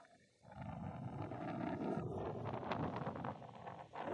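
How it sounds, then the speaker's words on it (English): Strong wind buffets the microphone outdoors beside a Suzuki mini truck, a steady loud roaring rush that swells after a brief quiet start and continues with no speech. "I know it's very windy."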